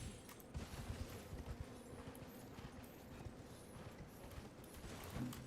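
Horse hooves clip-clopping in a video game, a steady run of soft, repeated thuds at moderate distance with light background game noise and no talk.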